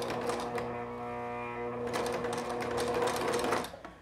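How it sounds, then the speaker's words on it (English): A sewing machine runs steadily and loudly up close, stitching a zigzag stitch across a small fabric scrunchie, its needle whirring in a continuous rapid rhythm before slowing to a stop near the end. "I'll switch it to a zigzag stitch"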